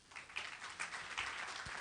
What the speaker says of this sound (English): A round of applause for you all.